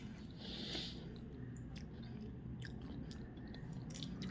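Close chewing of banana and bread, with soft wet mastication and small bites repeating through steady low room noise, no talk.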